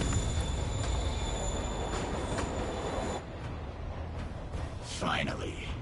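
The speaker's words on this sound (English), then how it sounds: "Train moving." A moving train rumbles loudly in the video game Marvel's Spider-Man, a dense steady roar with high squealing tones that drops in level midway, followed by a brief voice-like burst near the end.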